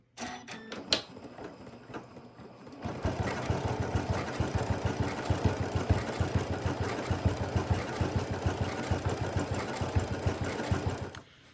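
A serger runs an overlock stitch on fabric for a zippered pouch, starting after a few clicks and handling noises and then whirring in a fast, steady, loud rhythmic chatter for about eight seconds before stopping.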